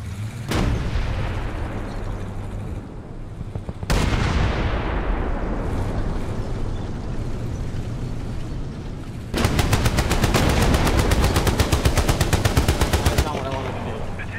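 Rapid machine gun fire from tank guns in AMX-13 tank game combat, loud, dense bursts with sharp single reports early on and a long fast rattling volley later, under engine rumble.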